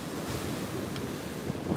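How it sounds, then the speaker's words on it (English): Choppy, messy ocean waves break and wash along the Santa Cruz coast under a surf advisory, a continuous loud roar of surf mixed with gusty wind noise on the microphone. "this is more rare to see messy waves in Santa Cruz like this"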